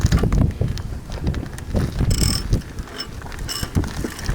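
A ratchet tightens brake caliper bolts during a rotor and pad job on a 2002 Dodge Caravan Sport, producing close, rhythmic clicking and metallic ratcheting in quick bursts with small clanks between strokes.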